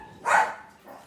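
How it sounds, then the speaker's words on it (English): A dog gives a single sharp bark at someone at the door, fairly close and alone, followed by a fainter second yip. "That's the dogs."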